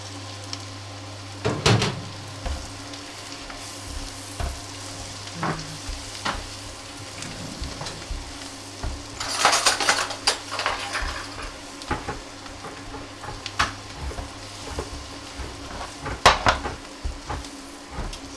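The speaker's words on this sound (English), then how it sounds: "Right, let's get the other spices in. Give it a good stir." Spices being stirred into a pan frying on an induction hob while making butter chicken, with a steady low sizzle, scattered spoon scrapes and clinks against the pan, and a louder burst of stirring partway through; no one speaks.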